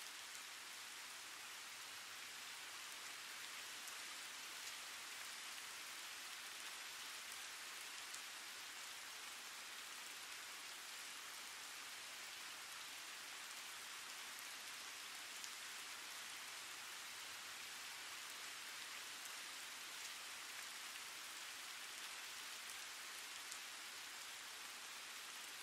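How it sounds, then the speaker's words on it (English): Falling rain makes a soft, steady hiss that runs evenly and unbroken for the whole stretch. It stays faint and calm, with no voices. "Continue to ground yourself through the sound of the falling rain"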